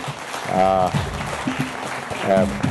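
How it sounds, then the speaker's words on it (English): Audience applause fills a conference hall after a panel session on leadership in Africa and capital markets development, a steady wash of clapping from a crowd running under a speaker's voice throughout. "a round of applause to our very capable"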